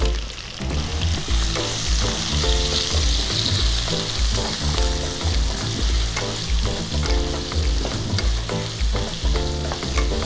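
Potatoes sizzle and crackle steadily in hot oil with salt and turmeric, with occasional stirring scrapes, close and continuous, no talking.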